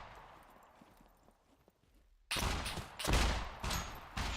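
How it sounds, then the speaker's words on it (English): Gunfire in the survival game Scum, a sudden loud burst of several rapid shots in quick succession after a quiet stretch of faint footsteps and ambience. "Shooting at me through a wall."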